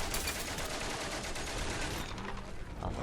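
Dense rapid gunfire and heavy battle noise from a First World War setting in the video game Valiant Hearts, a loud continuous clatter of machine gun bursts filling the whole stretch with no pause.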